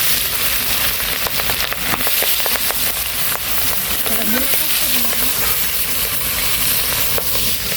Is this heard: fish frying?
yes